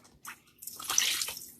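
A cloth rinsed in a bath of plain water while painting a floral design, giving close splashing and dripping swishes that build and stay steady over a short stretch.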